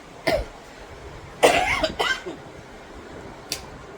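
Four sharp coughs from a nearby person, spread out with pauses: one short cough, then a longer cluster of hacking coughs, then a final brief one.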